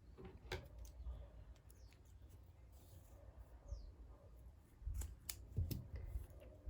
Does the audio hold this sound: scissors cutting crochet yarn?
yes